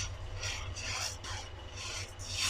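Urad dal and chana dal are dry-roasted in a pan, giving a faint, soft rasping and scraping as the lentils are stirred in repeated strokes.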